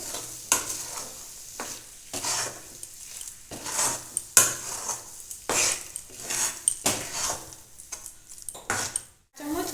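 Chana dal halwa frying in ghee while being stirred, a close rhythmic series of scraping strokes and metallic clinks of a spoon in the pan over a soft sizzle.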